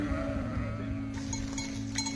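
A herd of sheep in a panic, with repeated bleats overlapping against a steady background hum, and some clinking and rustling toward the end.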